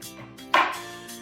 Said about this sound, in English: So now we're going to chop up our peppers.